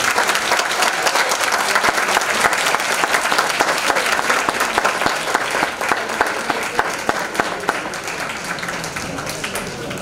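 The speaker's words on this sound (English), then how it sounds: "let's give them a round of applause" A crowd at a high school graduation ceremony claps in sustained, dense applause that fades slightly toward the end, with faint voices mixed in.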